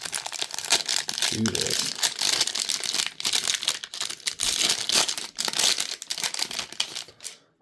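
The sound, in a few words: tearing open Optic trading card packs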